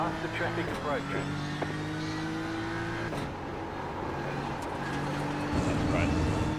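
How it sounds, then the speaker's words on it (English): Faster race cars in a simulated endurance race at Road America close in and pass, engines droning steadily with shifting pitch and a louder surge near the end, while someone talks over the engine noise. "Faster traffic approaching."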